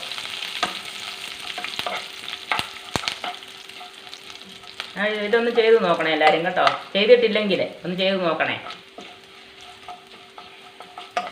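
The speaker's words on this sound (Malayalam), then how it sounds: "ഏകദേശം ബ്രൗൺ കളറായി കറിവേപ്പില ഇടുന്നേ അതുകൂടെ ഇളക്കുക" Curry leaves fry in a pan for a tapioca dish, giving a light sizzle and sharp stirring clicks at first, then someone talks over the quieter frying.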